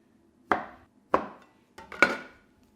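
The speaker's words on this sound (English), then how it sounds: "And then you just cut these into nice sort of centimetre chunks." Knife slicing through almond cookie dough into small chunks, three distinct firm cuts, each a short thud with a brief scrape tail, close and clear with no talking.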